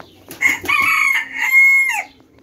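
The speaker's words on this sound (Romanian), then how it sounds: "Cocoș de Phoenix argintiu." A silver Phoenix rooster crows close by in one long, strong call with a rising start and a held, wavering end, heard alone at a poultry breeder's yard.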